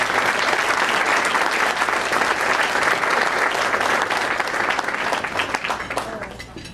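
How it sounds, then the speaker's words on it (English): Sustained audience applause at a dinner event, many hands clapping steadily and loudly for several seconds before tapering slightly at the end. "So lots of applause."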